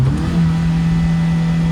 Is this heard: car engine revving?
yes